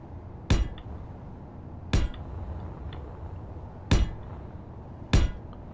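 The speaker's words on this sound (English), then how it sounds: "So we're just placing four and leaving plenty of space around the hinge and rotor there." Solar panel blocks being placed in the video game Space Engineers, with four crisp metallic clunks spaced a second or two apart, close and distinct over a quiet background.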